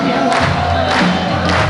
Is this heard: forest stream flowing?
no